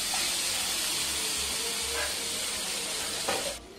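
Tomatoes frying in a pan, a loud, continuous, close sizzle and hiss with bubbling crackle and faint background clatter, cutting off abruptly near the end.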